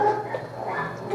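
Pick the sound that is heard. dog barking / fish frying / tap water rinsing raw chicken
dog barking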